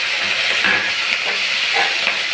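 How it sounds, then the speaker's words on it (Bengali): Shrimp frying in hot mustard oil give off a steady, close sizzle with a broad hiss, plus faint stirring clatter throughout and no voices. "তেলটা আমার গরম হয়ে গেছে, এবার আমি এই সব চিংড়ি মাছগুলো ঢেলে দিয়ে ভেজে নেব।"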